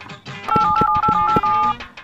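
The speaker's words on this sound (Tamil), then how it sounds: "dial the number" Keypad tones of a telephone number being dialed, a run of steady dual beeps with short clicks between them, fairly close and clear over a faint background hum.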